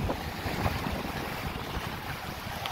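At Lover's Key beach in Florida, strong wind roars steadily into the microphone, a loud, continuous rushing buffet with faint surf underneath while a bicycle is pedaled along the shore.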